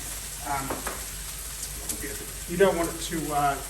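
Chicken curry in tomato sauce sizzles and fries in a hot pan while being stirred, a soft steady crackle running under a person talking.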